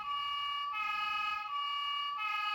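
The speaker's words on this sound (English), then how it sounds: "which is your European siren." A toy European emergency siren sounds steadily, alternating between two sustained electronic tones every second or so, close and continuous.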